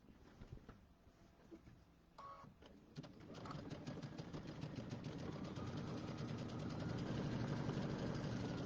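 A sewing machine stitching a strip of a Hunter's Star quilt block runs with a quiet, even mechanical whir that picks up speed and grows louder as it goes.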